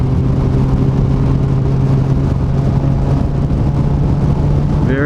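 A 2012 Yamaha FZ6R motorcycle engine while riding at speed, a steady, loud mid-pitched drone with constant wind rush throughout and no talking.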